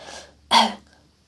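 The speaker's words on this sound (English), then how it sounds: "she coughed 2 or 3 times to make the little prince feel at fault" A single short cough, close and fairly quiet, preceded by a faint breathy exhale.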